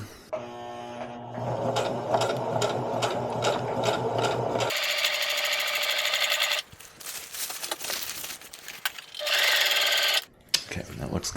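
A sewing machine runs steadily as it stitches a seam through camper fabric for a truck conversion, a fast continuous whir with rhythmic needle clatter, then pauses and resumes in short bursts, with some talk between runs.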